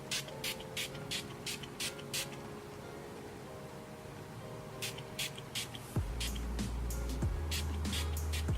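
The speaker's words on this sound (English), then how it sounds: "I'm going to be setting my face with this Mist Glow" Rapid short bursts of a setting spray mist hiss in quick series onto a face, pausing and then resuming, close and fairly quiet over a faint background hum.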